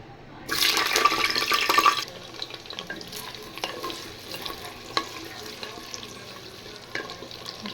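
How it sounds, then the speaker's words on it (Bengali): Potato and papaya pieces hit hot oil with a sudden loud burst of sizzling that lasts about a second and a half, then settle into a quieter, steady frying crackle with occasional soft knocks. "তেল গরম হয়ে গেছে, এবার আমি আলু আর পেঁপেটা ফ্রাই করে নেব।"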